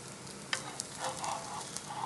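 An egg for sira egg roti fries in a hot pan, a close, steady sizzle and crackle with a few light utensil taps and no talking.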